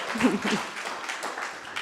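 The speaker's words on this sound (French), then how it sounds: "Oui, ça mérite des applaudissements, je suis assez d'accord." Conference audience in Nantes applauding, a short, faint patter of clapping with a voice briefly over it at the start.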